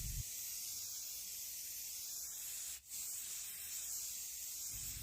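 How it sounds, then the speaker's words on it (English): A can of coastal sage spray paint hissing in a steady, continuous spray for several seconds, with one brief pause midway, close and moderately loud. "We're going to give these a coat of spray paint with this beautiful coastal sage color"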